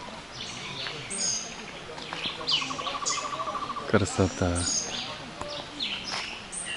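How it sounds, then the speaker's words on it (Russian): Bird song rings out in short, repeated chirping phrases along a shaded jungle trail in Cuba lined with giant bamboo, moderately near over soft outdoor ambience, with a person briefly speaking. "Слышите, как птица поет?"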